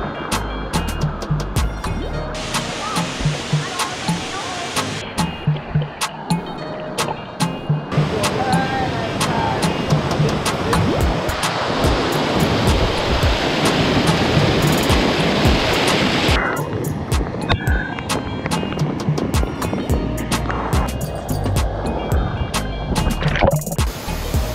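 Water pours steadily at Upper Twin Falls on Maui, a close, loud, continuous rushing roar with scattered knocks and handling noise over it.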